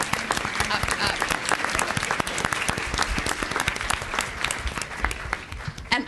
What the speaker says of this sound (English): Everybody should applaud for them.